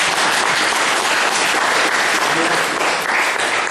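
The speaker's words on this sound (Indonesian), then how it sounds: "Tepuk tangan biar semangat." An audience at a talk on compassion bursts into dense, continuous applause, many hands clapping loudly and evenly throughout.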